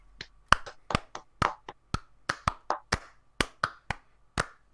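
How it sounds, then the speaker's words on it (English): A single person claps for Spider Bro, about fifteen crisp, close hand claps in an uneven rhythm, each sharp and distinct against near silence, with no talk. "Let's clap for Spider Bro,"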